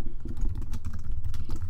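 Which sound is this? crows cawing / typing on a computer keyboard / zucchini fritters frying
typing on a computer keyboard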